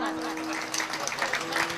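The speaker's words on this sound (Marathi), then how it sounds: "वाजवा टाळ्या वाजवा" A kirtan audience claps together in a steady, dense patter of applause, with a voice also heard in the background.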